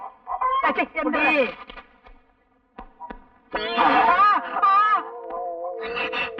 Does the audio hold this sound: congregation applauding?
no